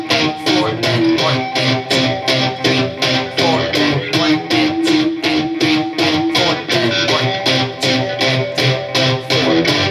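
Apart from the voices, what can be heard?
distorted electric guitar playing pop punk eighth note stabs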